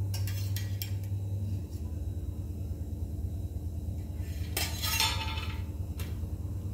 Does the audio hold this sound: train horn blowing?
no